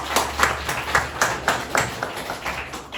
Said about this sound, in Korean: 하나님께 영광의 박수 한번 보내드리기 바랍니다